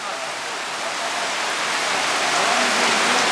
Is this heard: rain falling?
yes